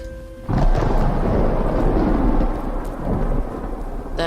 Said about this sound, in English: That made lightning hit the pole.